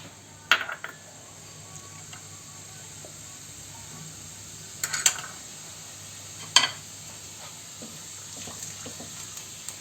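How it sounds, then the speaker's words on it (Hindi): About a spoonful of cumin seeds in hot oil gives a soft, steady sizzle in a home kitchen, with occasional clinks and scrapes of stirring spaced a few seconds apart. "सबसे पहले हम जीरा डालेंगे।"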